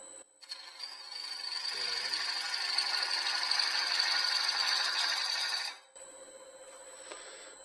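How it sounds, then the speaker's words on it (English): Wood turning on a lathe with a gouge, a steady whirring scrape that builds for about five seconds and then stops abruptly, leaving a quieter motor hum, close and without talk. "I'm not able to swing the gouge that way, so I'm kind of dipping in more than I want to here"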